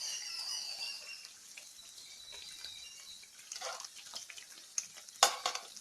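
Banana fritters in wheat flour batter frying in oil, a soft steady sizzle under gentle stirring, with a few clinks of a utensil against the pan near the end.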